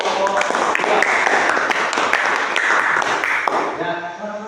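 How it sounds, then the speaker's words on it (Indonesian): Schoolchildren in a classroom clapping for a group of classmates, a short burst of close, scattered applause with voices mixed in that fades at the end. "tepuk tangan untuk kelompok 2"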